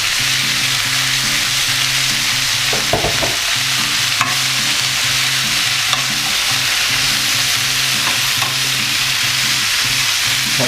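Vegetables for green shakshouka sauté in a pan, a constant close sizzle with occasional clatter and scraping from stirring, and no one speaks.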